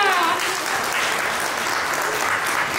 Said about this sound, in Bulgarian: И пляскаме за децата!